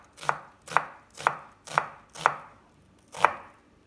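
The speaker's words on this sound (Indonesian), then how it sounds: "Bumbu yang diiris-iris adalah 1/3 siung bawang bombay." Six crisp knife strikes through a third of an onion on a cutting board, sharp blade chopping at a steady, unhurried rhythm with a short pause before the last cut, close and clear with no talk.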